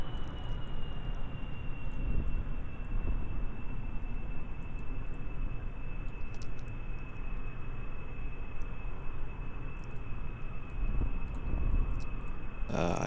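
A steady, droning airplane engine whines in Kerbal Space Program as a snubnosed plane flies at reduced throttle, a continuous broadband rumble with a thin high tone held throughout.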